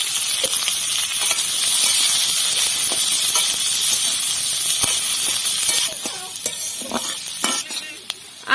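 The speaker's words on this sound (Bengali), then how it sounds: "এবার আমরা তেলের উপরে লঙ্কা দিয়ে দিচ্ছি। আর এবার দিয়ে দেবো পেঁয়াজ। এবার আমরা এগুলোকে হালকা ভেজে নেব।" Chilli and onion frying lightly in hot oil for an egg chow mein, a steady close sizzle with stirring scrapes, the hiss easing toward the end as the pan is stirred in short bursts.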